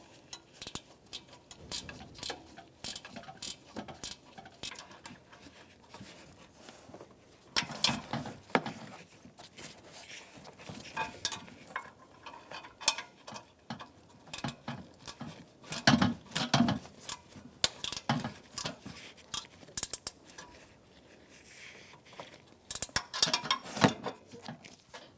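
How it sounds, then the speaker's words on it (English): Ratchet wrench snugging bolts on a 1992-1996 Ford F-150 radiator, heard as rapid clicking bursts that come and go in irregular spurts, close and fairly quiet, with brief louder flurries of metallic ticks and no talking. "I'm going to snug them up with the ratchet wrench"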